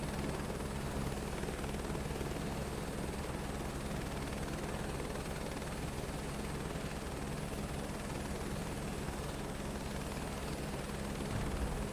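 Aircraft engine roaring steadily at full power during takeoff in Microsoft Flight Simulator 2024, a loud continuous drone with a rhythmic rotor-like pulse throughout, no talking.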